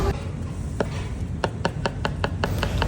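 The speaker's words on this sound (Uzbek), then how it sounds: "Chesnoklarimizni ham mayda qilib to'g'rab olamiz." Garlic cloves being finely chopped with a knife on a board, a run of sharp, evenly spaced taps that quicken toward the end over steady kitchen background noise.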